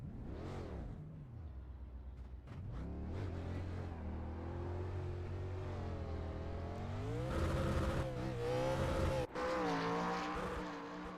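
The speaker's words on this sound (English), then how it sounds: "Dalton at this point is just trying to see how many times he can bang the rev limiter on that car" Race car engine in a championship Scrambler series race repeatedly banging the rev limiter, a loud sustained engine drone with rising and falling pitch and choppy bursts near the end.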